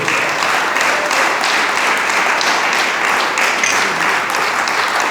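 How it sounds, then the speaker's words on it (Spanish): A church congregation claps for the Lord during a pastor's sermon on true prayer, loud dense applause from many people filling the room evenly for about five seconds, with no speech over it. "Dele palmas al Señor aquí."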